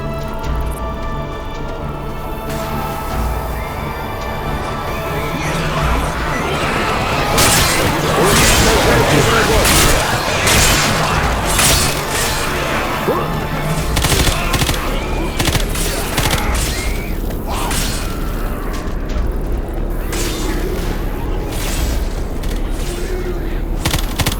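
Grenade blast and gunfire in Left 4 Dead 2, played on realism expert: a sustained, loud barrage of booms and rapid shots that fills most of the stretch, with a voice occasionally over the din.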